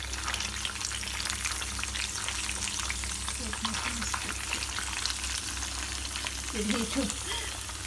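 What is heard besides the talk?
pounded beef frying in hot oil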